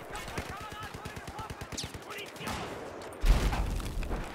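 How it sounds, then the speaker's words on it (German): Rapid automatic gunfire in a Battlefield 4 Rush multiplayer match, a dense stream of shots for about two seconds, then a loud explosion-like burst, with voices talking over the action. "Du wirst so permanent beschossen."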